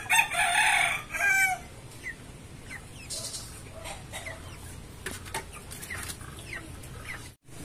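Broiler chickens on a poultry farm, a brief loud burst of crowing and clucking up front, then scattered quieter clucks and peeps over a steady background hum.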